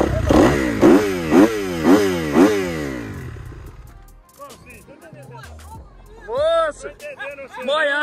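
A motorcycle that fell into a mud puddle and took water into its exhaust is started, its engine firing in loud rhythmic revving pulses for about three seconds before cutting out, followed by excited nearby voices talking.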